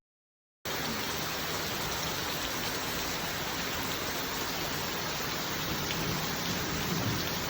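Steady, dense rain falls on a rainy day in a village, a continuous even hiss that begins after a brief silence and carries on alone with no voices.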